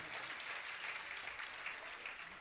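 An audience at a Jain religious gathering claps together in a sustained, even round of applause, faint and distant throughout with no voices over it.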